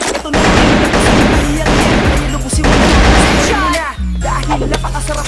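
Rapid bursts of automatic gunfire in the shooter game CrossFire, dense and loud, broken by brief pauses and ending in a sharper crash, with a voice talking faintly underneath.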